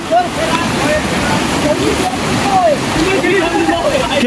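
Keloshi waterfall rushes with a steady, loud, broadband roar, and voices talk over the constant falling water throughout.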